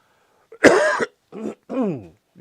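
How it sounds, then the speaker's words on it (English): A person coughs and clears their throat in a few short, close bursts, with brief pauses between them and quiet in the background. "Now I'm coughing."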